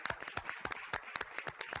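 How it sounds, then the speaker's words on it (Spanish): A small studio audience on a Spanish TV quiz show claps in a loose, uneven patter of distinct hand claps, fairly faint and steady for a couple of seconds, with no voices over it. "Un aplauso"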